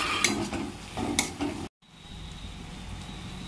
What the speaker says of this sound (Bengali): এবারে এতে আমি একটু টমেটো সস দিয়ে দিচ্ছি, একটু নেড়ে নিচ্ছি।